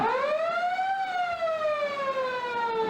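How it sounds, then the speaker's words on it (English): A loud electronic siren starting the second quarter of a 1994 country Australian football grand final holds a steady, slightly rising then falling wail, sounding alone without any talking. "there's a siren to get the second quarter underway"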